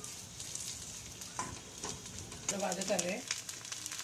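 Onion frying in a pan for dry bombil curry, a steady soft sizzle throughout, growing a little louder near the end, with a brief voice in the background.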